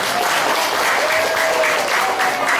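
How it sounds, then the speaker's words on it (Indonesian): An audience at a religious gathering at Masjid Al-Amin in Pamulang applauds the Al-Amin youth, with steady, dense clapping from many hands that stays loud and even throughout. "Tepuk tangan buat remaja-remaja Al-Amin."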